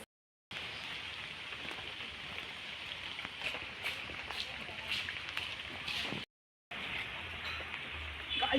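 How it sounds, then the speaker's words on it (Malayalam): Heavy rain pours steadily with a dense, close hiss and scattered drop impacts, briefly cut to silence midway before resuming. "ഇപ്പൊ ഭയങ്കര മഴയാണ് കേട്ടോ ഭയങ്കര മഴയാ നല്ല മഴയുണ്ട്"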